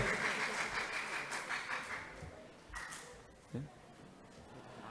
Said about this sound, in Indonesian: beri tepuk tangan yang meriah untuk Regu A, dilanjutkan dengan Regu B